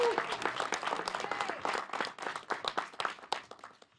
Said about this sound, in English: So I want to give us all a round of applause for that.